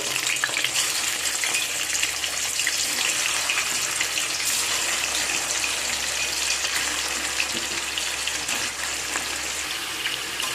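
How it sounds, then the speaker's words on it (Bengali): Chicken pieces frying in hot oil in a home kitchen for Bengali beresta chicken, a steady, loud, dense sizzle and crackle that continues unbroken throughout. "এখন আমি তেলের মধ্যে চিকেনগুলোকে ভেজে নেব"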